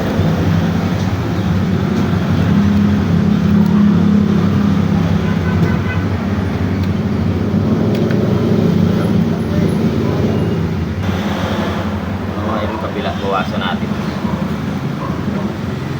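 Road traffic passing a roadside workshop, a loud continuous rumble of engines and tyres close by that rises and fades as vehicles go past, steady for the whole stretch.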